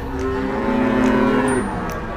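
Young female breeding cattle at a cattle market in Kunden, Wirosari, Purwodadi give one long, loud, near moo lasting well over a second, with market noise around it.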